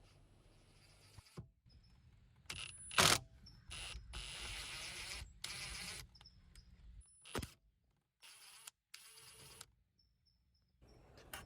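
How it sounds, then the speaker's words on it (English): Screws come out of the corners of a Porsche Panamera dashboard around the radio, giving sparse, close, ratchet-like clicks and short scraping bursts separated by near silence. "After both vents are out, you'll have to remove the 4 screws on each corner."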